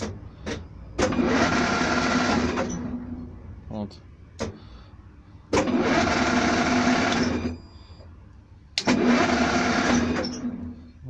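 A workshop machine motor driven by a frequency inverter whirs in three separate loud runs, each dropping away before the next, with a voice speaking in the gaps between them.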